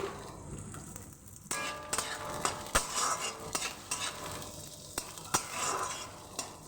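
Fresh green peas fry with browned onions in a pan, sizzling steadily as a spoon stirs and repeatedly clinks against the metal in close, uneven strokes.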